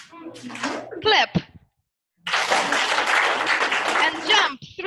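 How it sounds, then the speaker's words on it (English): A group of children clapping their hands in a classroom, a brief burst of claps between an adult's spoken instructions, then a longer sustained round of clapping and noise. "Clap."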